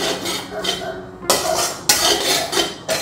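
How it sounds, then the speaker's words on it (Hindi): Desiccated coconut and dry fruits are roasted in a pan for laddoos, with a spoon scraping and knocking against the metal in several close, sharp strokes. "मैंने चार पाँच चम्मच नारियल का बुरादा ले लिया है इसको भी साथ में ही सेक लेंगे ऐसे"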